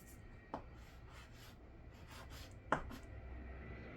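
Chalk or marker strokes on a board, faint continuous rubbing with two sharper taps where the tip meets the surface, quiet and close, no voice over it.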